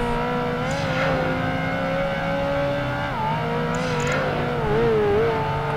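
A racing car driving a track in the video game Project Gotham Racing 2: a loud, steady engine drone whose pitch rises and shifts with gear changes, continuous throughout, with no talking.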